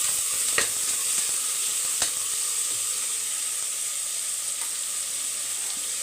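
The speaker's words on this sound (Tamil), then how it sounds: "வெங்காயம் நல்லா வதங்கணும்." About 300 grams of small onions fry in a pan, giving a steady, even sizzle with occasional stirring clicks, close and moderately loud with no talking over it.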